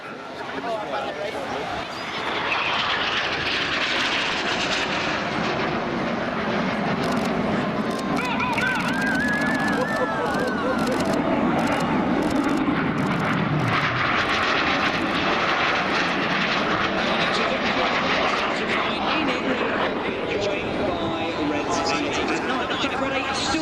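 Red Arrows jets in an opposition barrel roll at a seaside air show, a continuous loud roar that swells and fades as the aircraft pass, with crowd chatter and a commentator talking over it.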